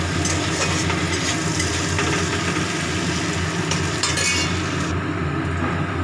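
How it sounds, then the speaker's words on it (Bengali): Shrimp frying in a wok, a steady dense sizzle with occasional clinks of a utensil against the pan over a constant background hum. "চিংড়ি মাছ চিংড়ি মাছ ভাজা হয়ে গেল এবারে নামিয়ে নেব"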